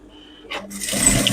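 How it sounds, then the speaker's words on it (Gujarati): Sewing machine starting to stitch the edge of a cloth coat made from scrap fabric. A brief, close mechanical whir builds quickly after a short quiet moment. "આવી રીતના ધારની સિલાઈ કરતું જવાનું"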